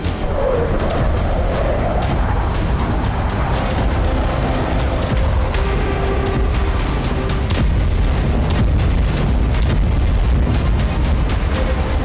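Repeated explosions at a Russian naval base in Crimea, with deep rumbling booms and sharp bursts recurring throughout, layered over a continuous low roar of distant blasts.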